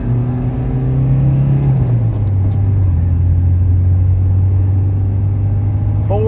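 A 1982 Mercedes 240D diesel with a four-speed gearbox pulls hard from a standstill, its loud, close engine drone rising in pitch, dropping at a gear change, then climbing steadily again.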